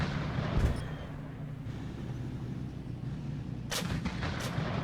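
Gunfire in the Lock N Load video game, a heavy low thump near the start followed by a few sharper cracks late on over a steady rumbling bed of noise.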